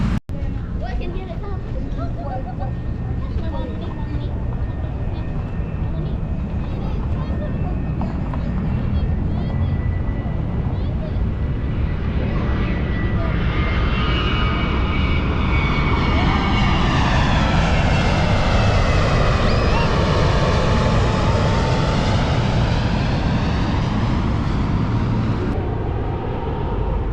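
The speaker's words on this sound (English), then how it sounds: "Oh, another airplane coming." A fixed-wing airplane passes overhead, its engine roar building and sweeping in pitch as it flies by, loud and continuous over about twenty seconds, with a child and an adult talking underneath.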